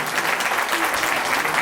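A crowd at an alumni mega meet of the All India IIHT Alumni Association gives Ashutosh Rai a loud, dense, continuous round of applause that fills the room evenly throughout.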